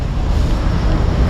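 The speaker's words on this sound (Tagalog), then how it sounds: "Sinamahan pa ng matinding ulan." Heavy rain pours down in a sudden downpour, a dense, steady hiss of water with a low rumble that holds evenly loud throughout, with no voices.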